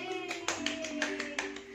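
A few sharp hand claps ring out over a steady tonal background, close and fairly clear, spaced irregularly across a short stretch.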